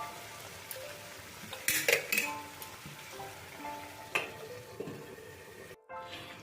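Chicken cooking in a covered pan over a medium flame, with steady close sizzling, a few clinks of the pot lid or utensil, and a brief stir near the middle.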